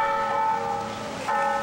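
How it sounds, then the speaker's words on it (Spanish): Church bells pealing from the twin towers of the San Francisco de Asís parish at midday, a festive ringing ahead of the posadas novena; sustained resonant tones overlap continuously, loud and steady, with a fresh strike near the end. "Festivo fue el sonido de las campanas hoy al mediodía."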